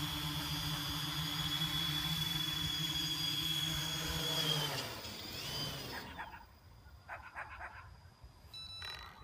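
A small drone carrying a USRP E310 software radio comes down to land, its rotors whining in a steady, loud tone that drops away as the motors cut out, leaving quiet surroundings with a few faint clicks.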